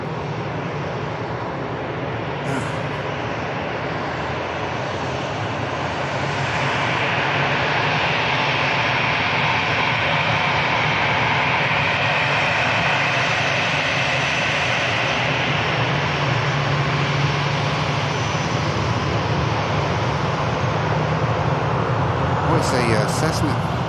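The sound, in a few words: Cessna light aircraft engine flying near airfield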